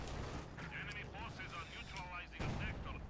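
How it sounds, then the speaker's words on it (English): A field artillery barrage in a video game rumbles as low booms and rolling blasts, while a commentator talks over them throughout. "Nice field artillery barrage, pushes away the Grens."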